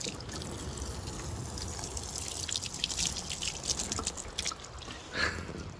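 Water trickles and drips off a sprayed, waterproofed convertible fabric top, a faint, steady patter with brighter splashy drips here and there.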